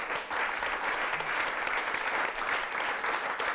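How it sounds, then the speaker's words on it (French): An audience at a French literary talk applauds steadily for the guest author Jean-Marie Rouart, a dense, even wash of clapping that stays loud throughout with no voices over it. "je vais renouveler mon invitation d'abord à applaudir peut-être Jean-Marie Roy pour le"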